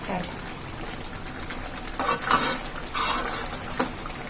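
A spoon stirs mutton liver fry in a pan, giving soft scraping and sizzling bursts over low background noise, with a few louder scrapes near the end.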